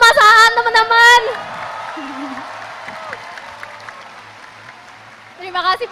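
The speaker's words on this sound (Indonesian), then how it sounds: "Mas Aan, tepuk tangan dulu untuk Mas Aan, teman-teman." A crowd at a youth political oration claps steadily for several seconds, with voices speaking before and after the applause.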